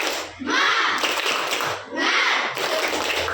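Children in a classroom do the 'tepuk semangat' clap chant, two loud bursts of group clapping and chanting voices separated by a short pause.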